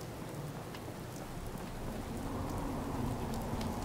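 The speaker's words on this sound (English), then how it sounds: "It's raining." Steady rain pours in the video game Fallout 4, a dense even hiss with a low rumble of thunder building underneath toward the end.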